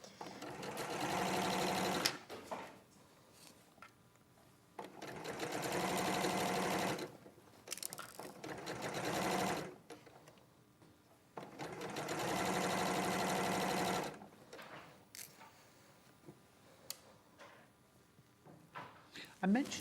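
An electric sewing machine stitching fabric on a live sewing show, its rapid motor whir coming in three long bursts of a few seconds each, with people talking in the pauses between runs.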